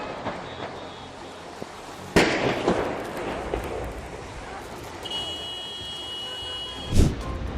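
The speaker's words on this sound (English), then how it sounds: "там эти баллоны рвутся один с другим" Gas cylinders burst one after another in a large fire near an oil refinery in Karachi, heard as two loud, sharp booms several seconds apart over a constant roaring, crackling background.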